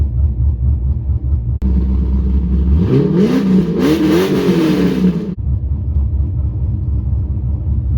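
A cammed 2004–06 Pontiac GTO V8 idles with a loping, choppy rumble, then revs up through a rising, roaring pull before dropping back to the lumpy idle, loud and close.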